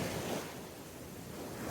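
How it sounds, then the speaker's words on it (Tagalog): Strong surf at Puka Beach, Boracay after rain, a dense rolling roar of breaking waves mixed with wind buffeting the microphone, steady and fairly faint with no voices. "Super lakas ng alon kasi umulan."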